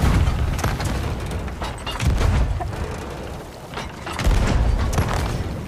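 Cannon fire in the pirate video game Sea of Thieves, with a few heavy booms spaced a couple of seconds apart over creaking ship and mechanical clatter, no voices heard.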